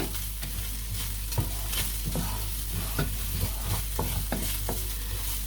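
Food sautés in a pan with a constant sizzle over a low hum, punctuated by regular scraping and tapping of a stirring utensil; no speech.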